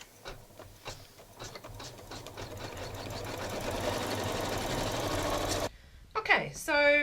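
Janome Memory Craft 15000 sewing machine stippling quilt panels: a rising steady mechanical whir of stitching builds for several seconds and then stops abruptly, followed by a few beeps, with brief speech at the start.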